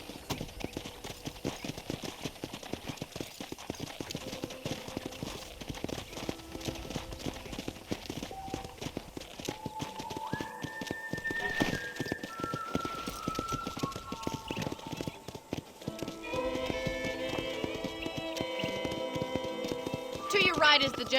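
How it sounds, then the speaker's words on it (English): Horse hooves clip-clop steadily while riding in the Red Dead Redemption video game, a continuous rhythmic trot under background music, with a character's voice talking over it. "let's see if you can still ride a horse."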